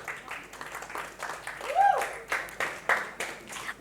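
Audience applause at a live web-series announcement event, a steady wash of clapping from a crowd that rises and swells in bursts over a few seconds.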